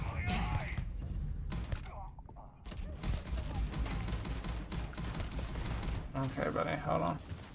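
Gunshots in a video game fire in rapid bursts at close range, steady throughout with short pauses, mixed with other game sounds and some talk.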